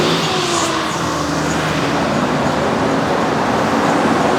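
A car engine runs steadily throughout, a loud, continuous broadband rumble with no break or pause, heard close and alone with no talking.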